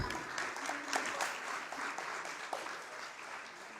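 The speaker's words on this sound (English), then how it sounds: "Please, let's clap." Applause from an audience at a formal peace pact signing ceremony for presidential candidates, a steady dense patter of many hands clapping with a few louder claps standing out, moderately loud and continuous throughout.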